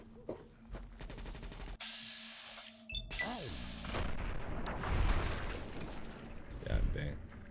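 Video game gunfire against Legion fighters, sharp shots and a rattling burst early on, then a dense rumble of fire and impacts with game effects, with voices talking over parts of it.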